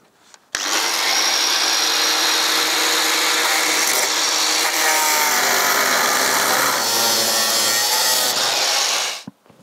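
An angle grinder cuts through rusty bolts on a truck's side step, a loud, continuous high whine and harsh grinding rasp lasting several seconds before the tool winds down.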